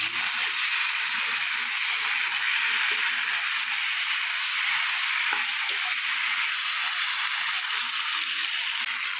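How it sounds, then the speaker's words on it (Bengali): Potatoes being fried and stirred with spices for a cauliflower and prawn curry give off a steady, close, loud sizzle with a bright hiss that runs unbroken throughout, with faint scraping of stirring underneath. "মশলার সাথে আমি আলুটা ভালো করে কষিয়ে নিচ্ছি।"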